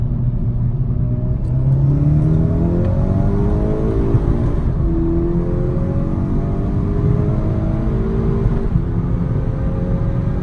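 A VW Golf MK6 GTI with a REVO Stage 3 tune accelerating hard, a loud droning engine rising in pitch through gear changes, heard from inside the car.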